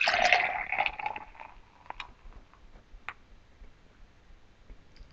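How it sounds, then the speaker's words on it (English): ESB beer is poured vigorously from a can into a Fuller's cup, a close splashing, gurgling rush at the start that fades quickly into quieter fizzing and scattered small pops and ticks of settling foam. "Let's do a more vigorous pour."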